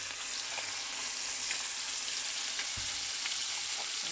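Trout pan-fries in a garlic and lemon butter sauce, giving a soft, even sizzle that stays fairly quiet and steady, with a few faint ticks and one low thump.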